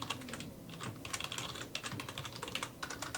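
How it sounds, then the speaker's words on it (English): Continuous typing on a computer keyboard, with rapid, irregular key clicks close up at a steady moderate level and no voices. "Ignore my typing sound as I'm making my notes."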